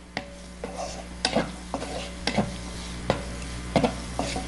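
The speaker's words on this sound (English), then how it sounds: "And that's still sauteing." Garlic and vegetables sauteing in a home pan: a steady soft sizzle under repeated sharp scrapes and knocks of a utensil stirring, about one every half second to second, close and moderately quiet, no voices.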